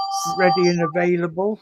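A phone rings during an online podcast call, giving a loud, close electronic ringtone of stepped bell-like tones in several short bursts over about a second and a half, with voices talking around it.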